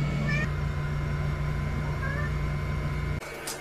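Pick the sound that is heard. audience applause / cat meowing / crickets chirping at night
cat meowing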